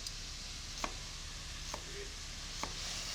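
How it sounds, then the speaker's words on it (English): Onion and chile being chopped on a board, heard as three sharp, evenly spaced knife strikes at about one-second intervals, quiet and close over a low kitchen hum, with no voices. "I'm going to chop some onion and chile"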